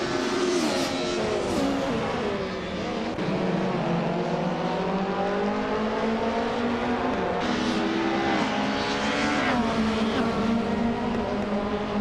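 Race cars in a racing video game accelerate and overtake, several engines whining loudly and continuously, pitch climbing and dipping with gear changes and passes, close and without talk.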